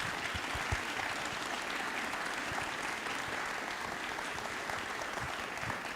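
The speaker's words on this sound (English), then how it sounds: "let's give these wonderful ladies an incredible round of applause." Steady applause from a Rotary club audience after an author panel, even clapping throughout, moderate in level and uninterrupted.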